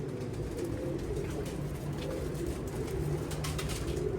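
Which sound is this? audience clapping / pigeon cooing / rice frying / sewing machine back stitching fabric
pigeon cooing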